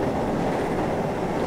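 A train running in the video game Train Simulator 2018, a steady, loud rumble of rolling wheels and engine noise, continuous and close with no voices over it.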